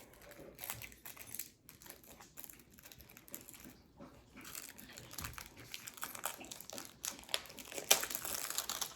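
Plastic packaging crinkles and crackles in close handling, with a steady dense rustle that keeps building and peaks in a sharp crackling burst near the end.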